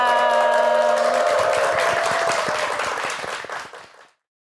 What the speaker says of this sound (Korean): 박종복 부동산 전문가께 감사의 박수 부탁드리겠습니다